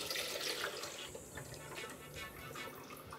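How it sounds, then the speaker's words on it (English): Hot melted oil poured from a pan into a container while making body butter, a steady close liquid stream and splashing with faint clatter. "So then we're gonna just pour the oil."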